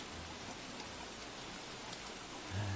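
Heavy rain in the video game Don't Starve hisses as a dense, even wash of noise, faint overall and steady throughout, with a brief low thump near the end.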